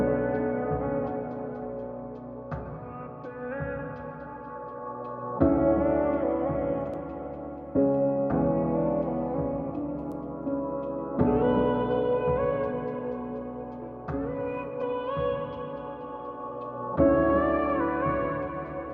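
Chopped vocal sample processed with EQ, compression, Little AlterBoy pitch shifting, reverb and chorus for a soulful R&B trap beat, playing as repeating phrases of sustained harmonic tones that restart every few seconds, alone without drums.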